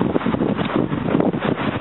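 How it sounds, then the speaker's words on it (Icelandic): Strong wind buffeting the microphone outdoors in Denmark, producing a continuous rumbling roar with gusty swells and no speech. "það var miklu vindur"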